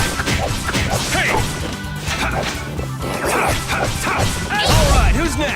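Sword attack impacts in the Tales of Vesperia video game, loud repeated clashing hits and swishes amid busy battle effects, with voices shouting over the fight.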